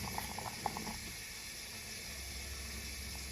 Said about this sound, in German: Beim Kochen kommen die Blätter gerne etwas hoch, dann werden sie wieder heruntergedrückt.